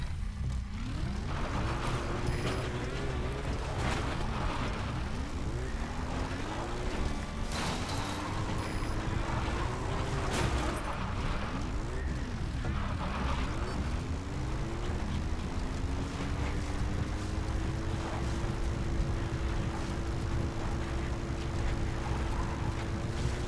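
Support helicopter arriving in Metal Gear Solid V: a continuous engine and rotor drone with pitch that swoops and rises, settling into a steady hum as it draws close, alone with no talk.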